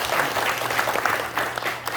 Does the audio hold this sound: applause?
yes